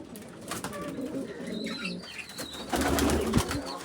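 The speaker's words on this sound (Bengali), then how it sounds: "কবুতরও আছে আমার," Pigeons coo softly nearby in short low phrases, with faint chirps and a brief flutter of wings toward the end, and no one speaking.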